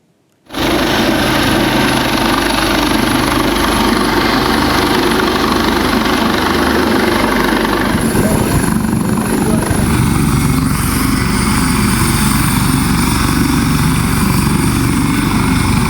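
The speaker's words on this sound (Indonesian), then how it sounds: "Basarnas kerahkan helikopter untuk evakuasi korban banjir bandang di Kabupaten Agam" Basarnas rescue helicopter evacuating flash-flood victims in Agam Regency, West Sumatra: loud, close, continuous rotor and turbine roar starting abruptly and holding steady throughout, with a slight shift in tone midway.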